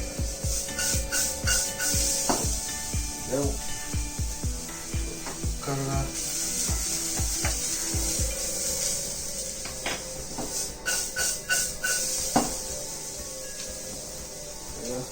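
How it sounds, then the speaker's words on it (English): Nutmeg is rasped on a grater beside a small pile of spices, giving rhythmic scratchy strokes close by over a steady background hiss, with a voice talking at times. "nutmeg while I'm grinding this"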